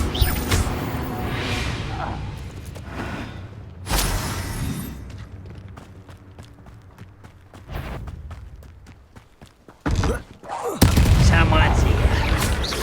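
Confringo spell blasts explode during Hogwarts Legacy combat, several sharp booms and whooshing bursts scattered among scuffles and clatter, with the loudest blasts near the end.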